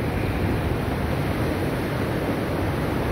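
Sea waves wash against a shore beside a hotel building, heard as a continuous loud roar of surf with strong wind buffeting the microphone throughout, no voices.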